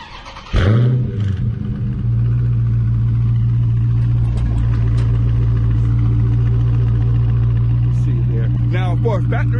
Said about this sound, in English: this is how the exhaust sounds factory